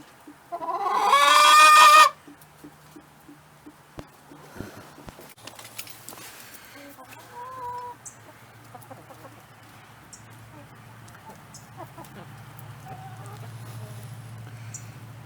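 Backyard chickens cluck and squawk close by, starting with a loud burst of squawking that settles into scattered, steady clucking and rustling for the rest of the stretch.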